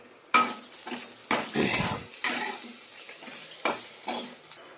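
Tempering spices for rice rava upma being stirred as they fry in a pan, with repeated scraping strokes of a spoon over a bright sizzle, close and without talk.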